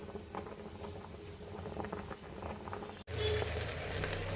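Tamarind sour dal, tempered with fenugreek and curry leaves, bubbles in a pot with a steady close patter. The boiling grows louder and fuller after a brief break, and no one talks.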